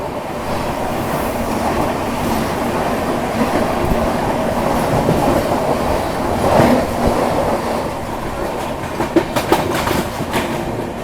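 Mumbai Howrah Duronto Express slowing down at a crossing with a slow local, a steady rumble of rolling railcars with faint wheel clatter and a brief squeal near the middle, close and continuous.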